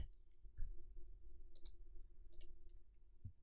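A computer mouse clicks sharply a few times, faint and close. The clicks are scattered across a quiet background with a faint steady hum.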